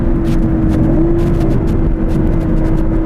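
An Aston Martin V12 S with its V12 engine and exhaust at a steady, loud drone while driving, one strong sustained tone holding throughout with no voices.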